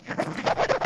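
A game controller's rubber grip rubbing against something, a quick, close, soft scratching burst of short strokes lasting about a second.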